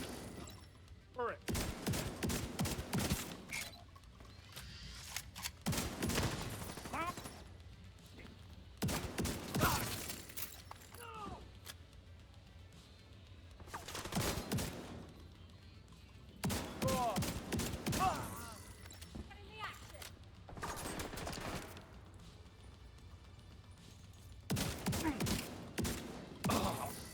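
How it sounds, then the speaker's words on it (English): Shotgun blasts in a video game ring out in several loud, spaced bursts, each a heavy boom with mechanical rattling and clatter in between. "This is one of the strongest shotguns that we have."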